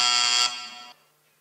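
A loud electronic quiz buzzer sounds in one harsh, steady tone lasting about half a second, then drops off quickly.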